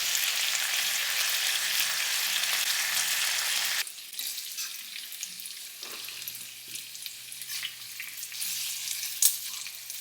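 Bacon frying in a pan, a steady close crackling sizzle that is loud at first and then drops to a softer, sputtering hiss with occasional pops, no voices.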